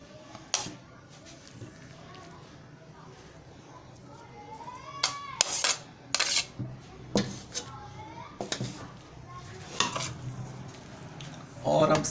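Cubed potatoes are mixed in a bowl, with spoon clinks and clattering dish knocks coming at irregular intervals amid faint background voices.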